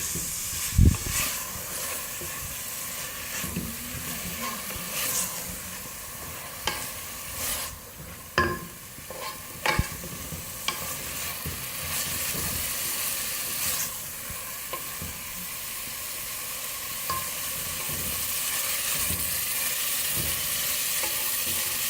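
Mash dal fries on a high flame in a pan with a continuous hissing sizzle, while a spoon stirs and scrapes through it in scattered knocks and scuffs over a long stretch.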